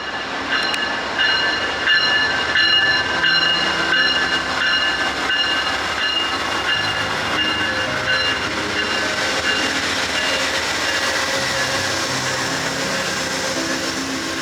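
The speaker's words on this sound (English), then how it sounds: "Train 4 would depart LA Union Station on time, bound for its destination" Amtrak Train 4 pulls out of LA Union Station bound for Chicago, a steady, loud rumble of rail cars rolling along the track with a faint high tonal ring held throughout and no voices.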